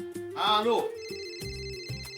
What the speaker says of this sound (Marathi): पप्पा तुमचा फोन वाजतोय.